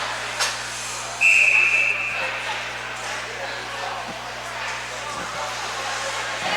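A referee's whistle sounds one short shrill blast at a youth 14U ice hockey game, heard over arena crowd noise and a commentator's voice.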